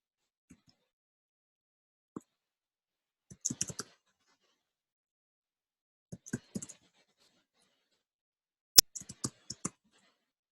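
Typing on a computer keyboard, quiet and close, with scattered short clusters of key clicks separated by long silent pauses.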